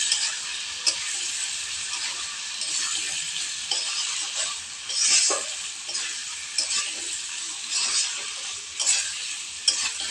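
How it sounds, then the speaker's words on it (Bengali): Prawns stirred into spiced curd in a frying pan for a sour-spicy prawn dish give a steady, close sizzle, with soft scraping strokes and occasional louder bursts as the spoon turns them, and no voices. "চিংড়ি মাছ দিয়ে ভালো করে নাড়িয়ে নেব।"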